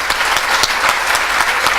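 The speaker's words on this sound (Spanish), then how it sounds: "quiero pedirles un aplauso para las chicas" An audience at a school directors' event bursts into steady, dense applause for the girls, close and loud, with no talk over it.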